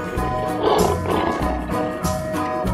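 A lion roars loudly and close, a deep rough bellow with throaty pulses sustained across the whole moment.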